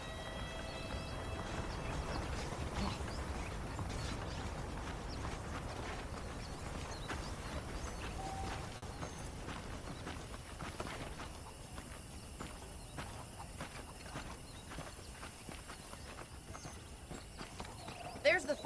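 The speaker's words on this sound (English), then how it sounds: "The horses are saddled up over here." Horses clip-clop at a walk in the Red Dead Redemption video game, a soft steady hoof rhythm under a voice, with faint game ambience and occasional louder knocks toward the end.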